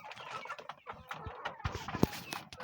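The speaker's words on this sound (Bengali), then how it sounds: "আমি রেখেছি 4টে মোরগ রেখেছি, বাকি কিন্তু সব মুরগি আছে" Hens and a few roosters cluck softly on a poultry farm, scattered short calls rising and falling at a modest distance, with one sharper squawk near the end.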